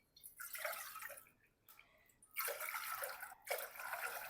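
Water pours into a cooking pot in three bursts, splashing and trickling close by with short quiet pauses between them, fairly soft overall.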